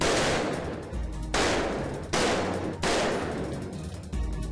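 Guns fire in several loud, close blasts on a firing range for a film scene, each burst ringing out and decaying before the next, four heavy reports spread over a few seconds.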